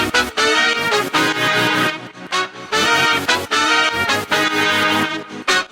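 Horns layered with a sawtooth synth pad that pumps rhythmically from an LFO tool, in an electronic track: loud, dense chords swelling and ducking in a steady beat, with no talking.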